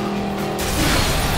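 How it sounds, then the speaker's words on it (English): A car smashes through a glass window in Stuntman Ignition, a tonal engine hum abruptly giving way to a loud, broadband crash of breaking glass and impact noise that carries on to the end. "Alright, smash through the window."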